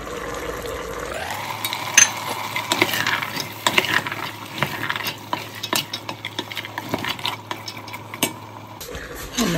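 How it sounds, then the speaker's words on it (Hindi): Harira on the stove: meat frying in a pot as chickpeas and lentils are added and stirred, with a steady sizzle under repeated clinks and scrapes of a spoon against metal, close and fairly loud, no talking. "गोश्त को मैं 1 से 2 मिनट और फ्राई करूंगी और उसके बाद इसमें चने और दाल डालते हैं।"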